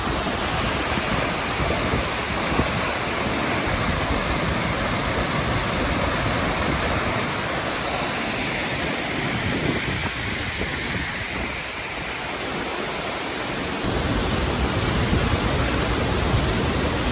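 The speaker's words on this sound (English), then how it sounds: "This is the real waterfall" La Paz Waterfall in Costa Rica, a steady broadband roar of falling water, loud and continuous throughout with no voices.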